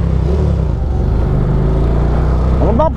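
A Honda Titan 150 V-twin motorcycle accelerates on a highway, its engine a loud, close, steady drone that rises in pitch near the end.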